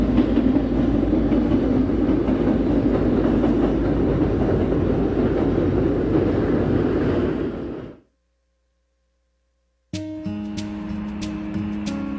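A Santa Fe train running on the double-tracked main line near the Missouri River bridge at Sibley gives a loud, steady rumble for about eight seconds, then cuts to silence before brief squealing, clattering rail noise returns.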